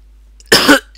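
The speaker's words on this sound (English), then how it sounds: "that was a really vicious cough" One sharp, harsh cough bursts out close to the microphone, loud against an otherwise quiet background.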